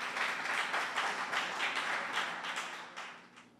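Audience applause greets a speaker at a French-language talk on Dessalines and the war of independence, a dense, steady clapping from a full room that holds for several seconds before tapering slightly toward the end.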